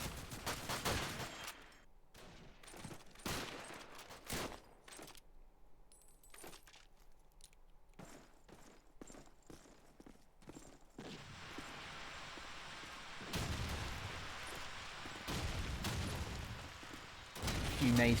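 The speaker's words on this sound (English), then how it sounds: "Few nades being exchanged, no kills" Gunfire and grenade blasts traded in a Call of Duty 2 competitive match, sharp broadband bursts scattered irregularly, with a denser sustained stretch of shooting near the end.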